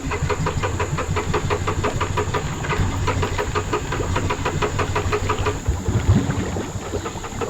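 A Honda 300 ATV engine runs with a steady, rapid chugging putter and hiss, heard close and continuous throughout with no talk.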